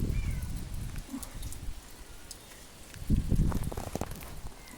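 Steady rain pours outdoors under strong, gusting wind, forming a continuous roaring rush with low rumbling surges near the microphone.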